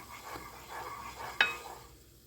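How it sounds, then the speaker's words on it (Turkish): Milk stirred quickly into a pot of vegetable soup with thickened, toasted flour: soft, close swishing strokes repeat every half second or so, with one sharper clink of the spoon against the pot near the end, then quiet. "Şöyle çorbamın sütünü ilave ederek karıştırıyorum. Topaklanmaması için şöyle hızlı hızlı karıştırıyorum."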